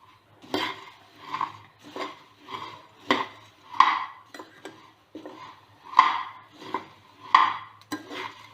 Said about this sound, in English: The kurmura will be little crunchy. If you try to press it, it will get this noise.